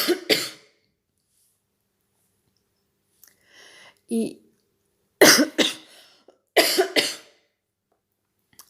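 A person coughs close to the mic in several separate bursts, a pair at the start and more clustered later, with near-silence between them and a brief murmur in the middle.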